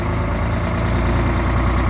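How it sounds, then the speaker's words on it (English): A converted bus's engine idles steadily at close range, a dense low rumble with broadband mechanical noise holding constant throughout with no voices. "Just started the bus up."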